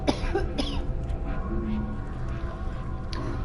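A game character in Whispering Willows coughs from too much smoke in a room on fire: a couple of harsh, close coughs at the start, then one more near the end, over steady background noise.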